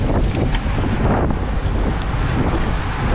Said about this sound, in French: Il y a du vent quand même